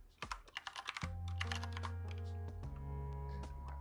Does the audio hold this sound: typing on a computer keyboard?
yes